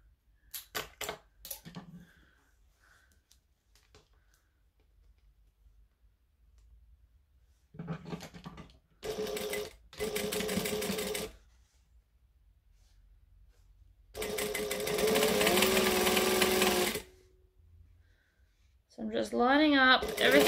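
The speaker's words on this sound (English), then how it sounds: "I'm sewing it in sections" A sewing machine stitches fabric in sections for a sewn case, with short bursts and one longer steady whirring run separated by pauses, close and fairly loud, with speech between the bursts.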